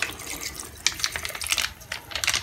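Soy sauce is poured into a pan while cooking Filipino halang-halang, a light trickling, splashing liquid sound with small uneven bursts, close and fairly soft.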